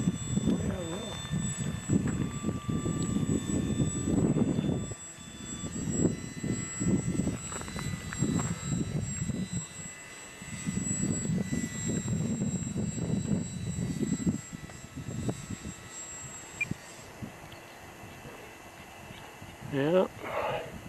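A Carbon Cub light aircraft flies in breezy, windy conditions, its engine droning with a rising and falling tone through rumbling wind, while people talk intermittently.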